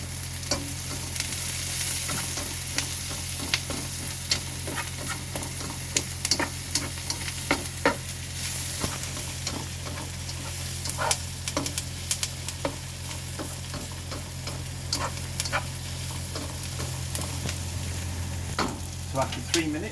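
Garlic and onions sauté in a pan for a vegan curry, a steady sizzle broken by irregular scraping and stirring clicks from a utensil, close and fairly quiet with no talk.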